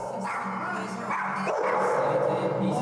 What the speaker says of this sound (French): Mais tiens ton chien frérot!